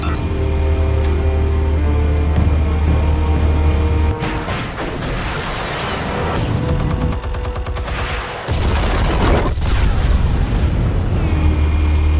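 Explosions and bursts of gunfire in the Batman Telltale video game, a loud sustained barrage with heavy booms, a brief lull, then another rumbling blast close and dominant.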